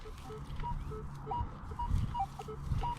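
A metal detector sweeps over a target on a Civil War battlefield. It gives a faint, choppy signal of short broken beeps that start and stop unevenly, with soft rustling and thuds underneath.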